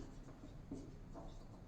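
Pen or chalk writing out a Class 9 geometry proof about quadrilateral ABCD, a steady soft scratching and rubbing that runs for just under two seconds, quiet and close with no talk over it.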